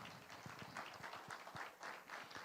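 A church congregation claps together, quick dense applause at a distance throughout the short stretch.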